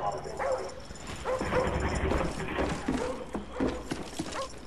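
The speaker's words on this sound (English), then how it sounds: "Dogs incoming." Attack dogs barking amid the chaotic battle din of a Call of Duty Black Ops multiplayer match, with sharp yaps scattered over constant game noise and a voice talking.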